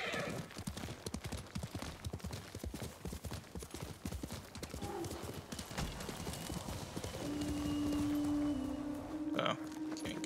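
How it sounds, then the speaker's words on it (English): Horse hooves clip-clop in a steady gallop through the Ghost of Tsushima game world, with whinnies and a sustained tone near the end, and a voice talking briefly over it. "That's a horse."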